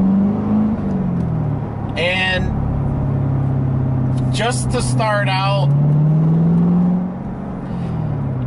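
A C7 Corvette Z51 with a manual gearbox drones steadily from inside the cabin, its engine note holding low and rising slightly toward the end, under continuous talk from the driver.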